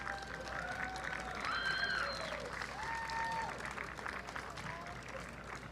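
A crowd applauds the two finalists at a women's tennis final, a steady wash of clapping lasting throughout, with faint voices and cheers mixed in.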